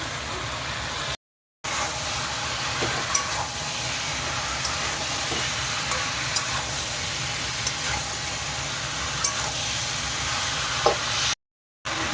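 Tomatoes and green chillies frying in a pan with cumin and coriander, giving a steady, even sizzle with faint stirring clicks throughout, close and moderately loud, with no voices.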